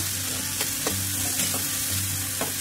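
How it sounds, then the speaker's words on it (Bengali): Masala spices frying in oil in a pressure cooker make a dense, continuous sizzle, broken by a few sharp stirring scrapes at irregular intervals. "তেল অ্যাড করে দিয়ে ভালো করে আমার মশলাটাকে কষিয়ে নেবো।"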